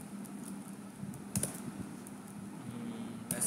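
Keystrokes on a computer keyboard while entering message details in SAP, a faint, irregular scatter of soft clicks over low room hum, with a small cluster of sharper taps partway through.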